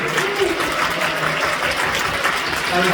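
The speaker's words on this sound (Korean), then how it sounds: "뜨겁게 박수해주세요" A church congregation at a Friday night prayer service gives the middle and high school students warm, continuous applause, a dense and even wash of many hands clapping at once.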